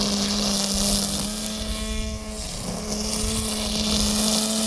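A GTM cordless battery grass trimmer runs at its second speed, giving a steady, close, loud motor whine with a strong hum and a brief dip midway, alone without talk.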